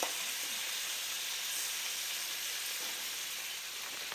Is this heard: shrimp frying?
yes